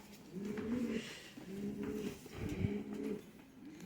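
Three Sialkoti pigeons coo in repeated low, throaty phrases, close by and moderately loud, with no talking.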